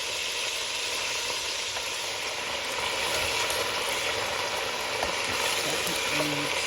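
Food browning in a frying pan in a home kitchen, a loud steady sizzle and hiss with occasional stirring scrapes, no talk.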